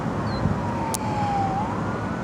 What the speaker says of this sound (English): I hear the sirens going crazy around me.